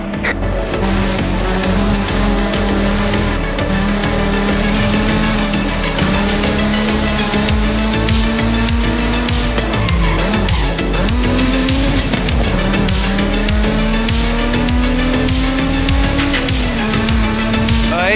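Mazda Miata driven in Forza Horizon 5 through dark woods at the foot of a volcano, its engine droning loud and constant while the tires squeal and skid in long stretches.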